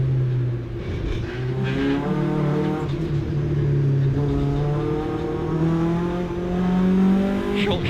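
Hot hatch race car at Silverstone in qualifying, engine droning steadily with rising and falling pitch as it brakes and accelerates, shifting gears through sustained loud revs with no talk.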